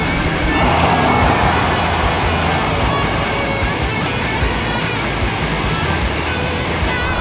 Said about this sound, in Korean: 방금 포르쉐가 1등으로 지나고